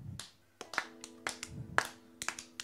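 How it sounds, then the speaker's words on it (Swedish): Live concert audience at a Swedish band performance applauding: scattered, uneven hand claps and taps, a few sharper bursts, rather sparse and moderately close rather than a full roaring ovation. "En applåd."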